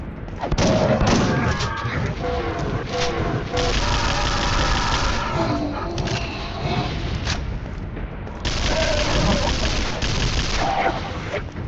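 Nail gun firing in the horror shooter Unloved, a loud, continuous barrage of rapid mechanical shots mixed with explosive booms and game noise, keeping up almost without pause.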